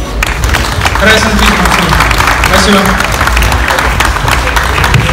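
Loud, steady applause from an audience fills the room for a new MMA champion at a student league tournament, with a voice speaking briefly over the clapping.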